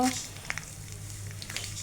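Dried red chili crackles in hot tempering oil for a ridge gourd curry, a faint, steady sizzle with a few soft pops, heard close but at low level.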